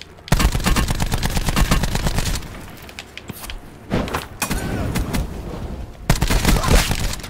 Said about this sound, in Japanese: もう銃声したね